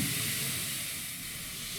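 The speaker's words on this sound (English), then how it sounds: "The steam escaping from the locomotive is from the steam generator and not from the safety valves which are mounted on the dome." Steam hisses continuously from the steam generator of a narrow-gauge steam locomotive on the Welshpool & Llanfair Railway, a steady broad rush with low rumble underneath and no voices.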